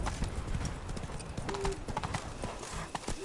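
Roach, the horse in The Witcher 3: Wild Hunt (Blood and Wine), clip-clops along at a steady pace, its rhythmic hoofbeats close and clear over a busy game soundscape, with a brief tonal cue partway through.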